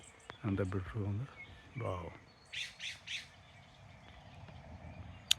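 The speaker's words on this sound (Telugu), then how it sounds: "వినిపిస్తున్నాయి కదా పక్షులు కిలకిలా రావాలి." Birds chirp at a quiet forest pond in North Fork, California: a quick cluster of three bright chirps, plus a faint later call, after someone speaks softly in a calm outdoor setting.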